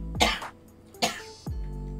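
Two rough, breathy throat-clearing bursts, close and fairly loud, followed by a short low thud; no talking.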